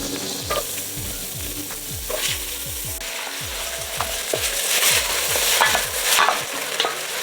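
Onions, carrots and celery sizzle steadily in butter in a pan while a utensil repeatedly scrapes and stirs, producing rhythmic knocking sounds throughout.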